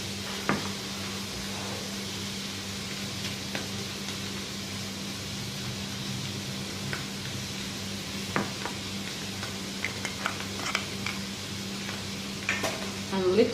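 Turmeric going into a sizzling pan of Andhra-style vankaya curry while it is stirred: a steady low frying hiss with scattered clinks and scrapes of a spoon against the pan, with no talking.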